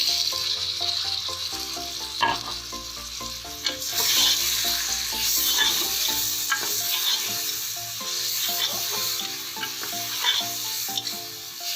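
Garlic, onion, spices and tomatoes fry steadily in a pan for a beef trotters curry, a continuous close sizzle with occasional stirring scrapes and clinks, no voices.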